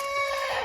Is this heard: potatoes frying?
no